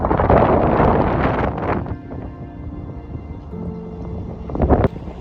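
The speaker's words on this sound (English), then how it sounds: "It's really, really windy." Loud, roaring wind on clifftops along the Jurassic Coast, UK, buffets the microphone in heavy gusts, easing for a moment before surging again.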